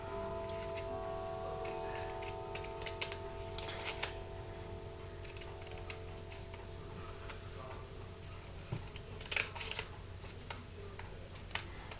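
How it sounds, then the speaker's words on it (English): Scissors snip through folded card stock for a handmade braided card, giving quiet, close, irregular clicks and crisp cuts over a low steady background hum. "So now I'm going to start cutting."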